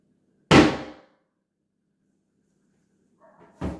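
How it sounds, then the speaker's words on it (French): A hammer tapped lightly on a piece of furniture: two sharp, separate knocks a few seconds apart, close and clear against silence. "Pour cette première expérience, léger petit coup de marteau."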